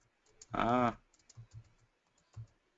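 Light clicks of keys on a computer keyboard come in a few scattered taps, close and fairly quiet, alongside a brief burst of speech.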